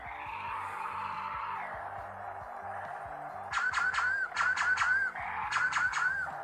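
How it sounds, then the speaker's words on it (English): Lego Star Wars Darth Vader's TIE Fighter smart-play toy giving a continuous electronic flight whoosh, then overlaid with repeated bursts of quick laser shooting blasts in three clusters, close and moderately loud. "so you can do the flight sound and the shooting at the same time"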